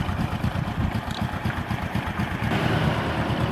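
Motorcycle engine idling at about 1500 rpm after a carburetor drain-hose leak repair, a steady, even putter that rises slightly in loudness partway through.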